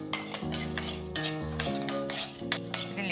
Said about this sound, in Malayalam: ഉഴുന്നും പരിപ്പും കൂടി വറുത്ത് കോരാം.